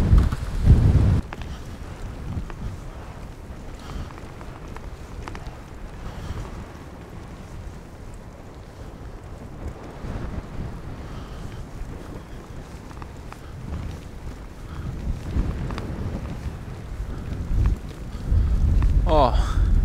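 Strong wind buffets the microphone in gusts, a continuous roaring rush that surges louder near the start and end, with voices now and then.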